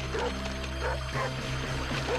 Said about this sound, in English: my dog Bucky started barking.